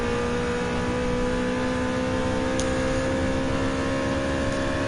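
A fifth-generation Corvette race car in Gran Turismo 7 drones steadily with a sustained engine tone throughout, holding a constant loud level with no talk.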